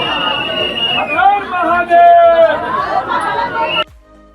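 Loud, close crowd chatter and overlapping voices fill Omkareshwar Jyotirlinga temple, a busy babble of many people, cutting off abruptly at the end.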